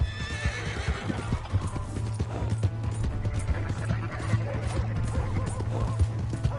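A horse in the video game Red Dead Redemption 2, with clip-clopping hooves in steady rhythm and repeated neighs and whinnies close by, under faint game sound.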